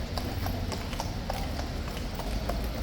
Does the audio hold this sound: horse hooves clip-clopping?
yes